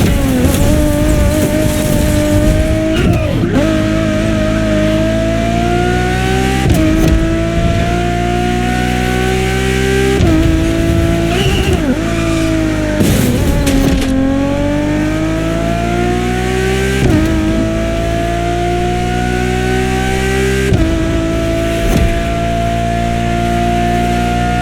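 A road-legal Formula One-style Ferrari supercar engine in a racing game screams loud and close, climbing steadily in pitch through each gear. Quick shifts repeat every few seconds with brief dips, and the engine holds a constant high roar throughout with no voices.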